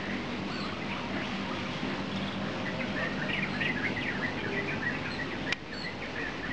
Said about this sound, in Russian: Это пение птиц и больше ничего.